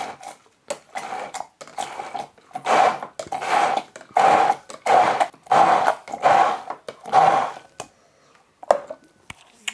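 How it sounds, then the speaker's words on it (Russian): A kitchen blender mixes yogurt, oil and cilantro into a sauce in a run of about eight short, loud whirring bursts with brief pauses between, then a few quieter clicks at the end. "Так, быстренько блендером."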